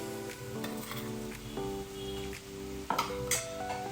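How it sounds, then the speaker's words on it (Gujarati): Spice mix of about two spoonfuls sizzles and fries in hot oil for a spiced jowar dhani and puffed-rice chevdo, with steady crackle, stirring and a few metal clinks from the pan. "અત્યારે લગભગ 2 મોટી ચમચી જેટલો મસાલો આપણે તેલમાં એડ કરી દઈશું"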